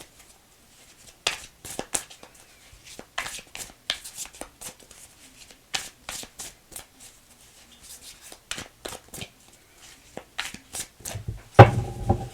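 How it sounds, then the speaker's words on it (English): A deck of tarot-style cards being shuffled by hand, a run of soft, close riffling bursts in an uneven rhythm, with a louder clatter near the end and no speech. "Let me shuffle some more"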